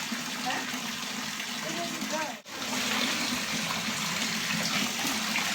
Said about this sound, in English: Cleanest mountain water dripping through the forest.